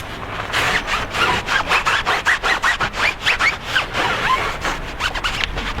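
A towel wipes residue off a car's paint in quick back-and-forth rubbing strokes, close and rhythmic, each stroke a short scratchy swish.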